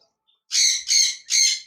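Three loud, harsh squawks from small budgerigars, a creamino red-eye male and lutino red-eye female, in quick succession, close up, after a moment of near silence.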